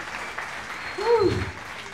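A comedy show crowd at a brewery applauds, producing a steady patter of clapping throughout, with a brief tonal whoop or voice rising above the clapping midway.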